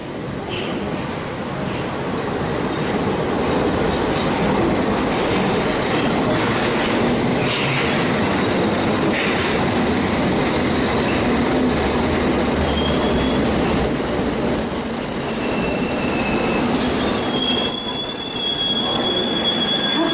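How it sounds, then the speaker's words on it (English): A London Underground train at Bank station crawls into the platform, its wheels squealing in high sustained tones over a steady rumble and rail clatter, loud and close throughout with no talk. "the next train is on its way, crawling up to the station"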